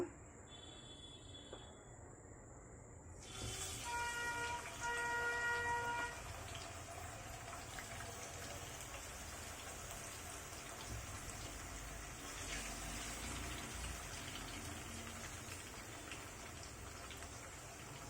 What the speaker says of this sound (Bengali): তৈলটা গরম হয়ে আসছে এখন এতে দিয়ে দিচ্ছি এক এক করে চিকেনগুলো